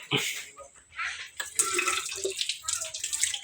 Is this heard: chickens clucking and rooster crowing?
no